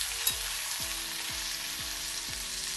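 Star fruit chutney mixture fries in a pan with a steady broadband sizzle, while a spoon scrapes through it in about five regular stirring strokes, close and alone with no voices.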